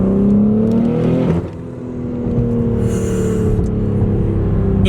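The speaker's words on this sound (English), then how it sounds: "That's an angry car, bro. It's so aggressive." BMW M3 Competition engine revving hard and accelerating, a loud close rising roar through the gears with a brief shift drop, then sustained strain, no voices.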